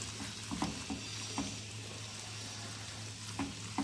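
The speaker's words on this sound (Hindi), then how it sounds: "इसके अंदर अब मैं बेसन ऐड कर रही हूँ 2 टेबलस्पून। 1 टेबलस्पून घी में अब मैं इसको अच्छी तरह भूनूंगी।" Two tablespoons of gram flour (besan) roasting in one tablespoon of ghee for a white chickpea curry: a soft, continuous sizzle with light scraping stir strokes at irregular intervals, close and fairly quiet, with no speech.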